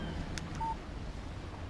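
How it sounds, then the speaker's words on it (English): A phone text message alert in the video game Alan Wake: one short, clear electronic beep over a low, steady ambient background. "Text message from Barry"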